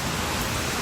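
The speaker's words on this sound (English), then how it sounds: "It's pouring down rain outside" Heavy rain pours down outdoors in a steady, dense hiss that fills the whole moment without a break or any voices.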